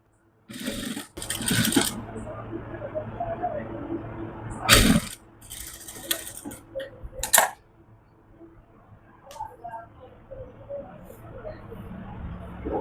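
A sewing machine stitches a kurta collar in short bursts, giving close whirring runs between pauses and a few sharp clicks and knocks, with a soft voice speaking at times.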